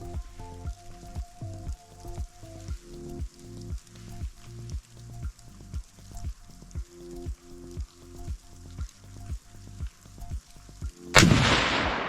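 A single sharp rifle shot cracks out near the end, aimed at a long-range target during a blizzard. It is loud and close and follows several seconds of steady, rhythmic, pulsing low background noise.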